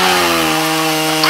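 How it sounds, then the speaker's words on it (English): A chainsaw runs steadily at a loud, even drone for over a second during a dental-office comedy sketch, with no talk over it. "No, the chainsaw."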